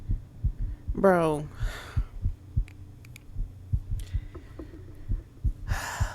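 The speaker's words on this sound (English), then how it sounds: "I hear a heartbeat." Heartbeat in a horror video game set in an elevator ride, a steady low double-thump throbbing under an ambient hum, with a brief gasp-like sound and one short word from a player.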